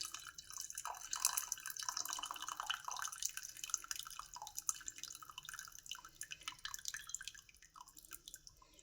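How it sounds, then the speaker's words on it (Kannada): Water drains off cooked dal in a soft, faint trickle with scattered drips, close by and continuous, with no voices. "ಇದರಲ್ಲಿರೋಂಥ ನೀರು ಸಪ್ರೇಟ್ ಮಾಡ್ಕೊಳ್ಳೋಣ"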